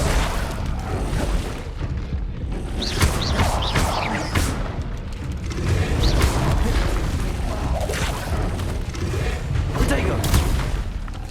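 The Incendio fire spell in Hogwarts Legacy bursts with whooshing flame and heavy booms, then a string of crackling impacts and thuds in loud combat.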